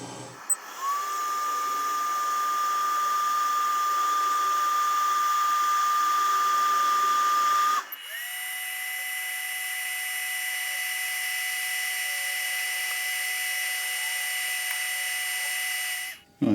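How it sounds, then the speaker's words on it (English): A power sander works wood for a clock, running steadily and loud for about eight seconds, pausing briefly, then running again at a slightly lower pitch before stopping. "Right, I'm going to sand that up"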